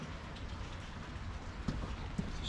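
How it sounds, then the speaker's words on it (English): Steady rain hisses and patters on a surface, with a couple of soft drips standing out; no voices. "It's raining out there."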